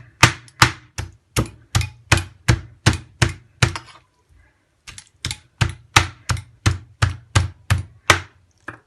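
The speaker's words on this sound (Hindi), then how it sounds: "ये देखिए, इस तरह से हम बिस्मिल्लाहिर्रहमानिर्रहीम एक के ऊपर एक डाल डाल के इसकी छोटी बोटियां करेंगे" A knife chops meat into small pieces on a board in a home kitchen, striking in a steady, brisk series of sharp, close knocks, pausing briefly midway before resuming at the same even pace.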